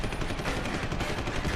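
Gunfire in the video game Deus Ex: Human Revolution, a dense, loud burst of rapid shots packed together, continuous for the whole stretch with no talking.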